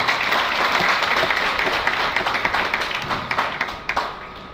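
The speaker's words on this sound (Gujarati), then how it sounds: "એમને ખાસ તાળીથી વળાવીએ" Audience applauding at a career guidance and inspiration talk, a loud crowd of clapping hands that gradually thins into scattered individual claps before dying away.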